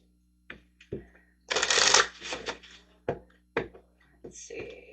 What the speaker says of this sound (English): getting some moon cards out.